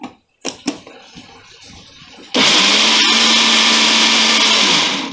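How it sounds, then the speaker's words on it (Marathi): A mixer grinder starts up loud and close, running in a steady high whir as it grinds peeled garlic with coconut. A few light knocks and handling sounds come before it. "तर आता ही लसूण मी बारीक करून घेते"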